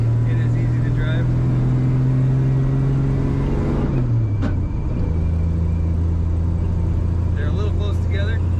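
A 1982 Dodge D150 pickup truck drives along with a steady low engine drone, easing off and shifting gear midway before settling into a lower, constant hum, with people talking over the cabin noise.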